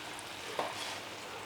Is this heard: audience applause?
no